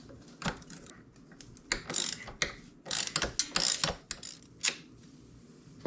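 T45 Torx tool working a kickstand bolt loose on a KTM/Husqvarna dirt bike, rapid close ratcheting clicks in uneven bursts, with metallic clinks between.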